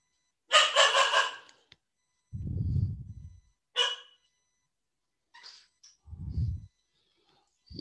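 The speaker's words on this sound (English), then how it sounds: "would you be kind enough to take these dogs out" Two dogs barking indoors during a college class, with a few loud bursts close by, separated by short pauses.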